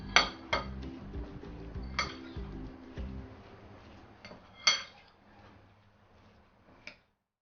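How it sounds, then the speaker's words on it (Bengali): Minced meat being mixed with dry spices and salt in a bowl for keema paratha, with close, sharp clinks and knocks of utensil against dish arriving in irregular bursts, then tapering off into quieter scraping. "একটু মিশিয়ে নেই।"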